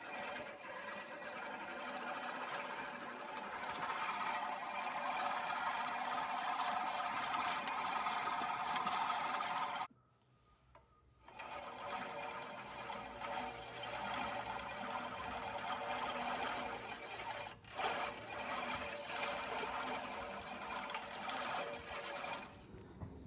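A LawnMaster LMRM1602 16-inch five-blade push reel mower rolls across a lawn with a steady whirring, clattering blade sound that runs for most of the stretch and stops briefly for about a second near the middle.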